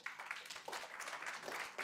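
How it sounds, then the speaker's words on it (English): A conference audience at an emergency medicine conclave at a hospital claps after a talk, with uneven bursts of applause that swell and dip over two seconds and a trace of voices underneath. "big applause"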